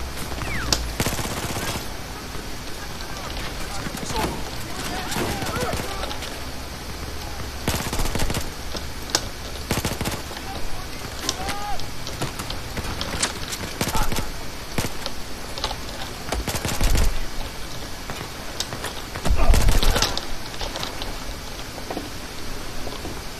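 Battlefield 4 weapons fire in dense bursts and rapid rattling volleys, with several loud shots standing out. Scattered speech runs underneath.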